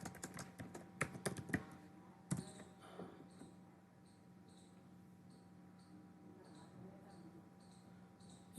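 A password is typed on a computer keyboard, heard as a quick run of close, sharp key clicks in the first couple of seconds, followed by quieter scattered taps and faint background sounds.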